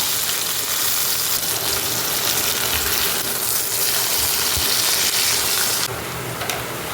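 Dried red chili, coriander seed, cumin, black peppercorns and curry leaves fry in a pan over low gas, giving a steady, dense close sizzle that hisses continuously and thins slightly near the end.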